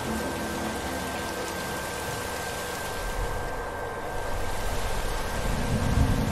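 Steady rain in the video game The Last of Us hisses continuously, with a low rumble swelling toward the end and no voices.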